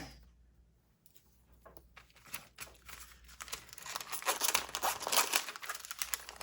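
Soft plastic packaging from stickers being crinkled and cut, starting with quiet faint rustles and building to dense, close crackling and crunching near the end, with no talk.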